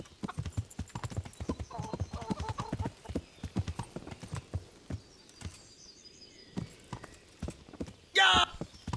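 Horse hooves clip-clop in a quick, steady rhythm in the video game Kingdom Come: Deliverance, with a brief neigh near the end and faint chirping birds behind.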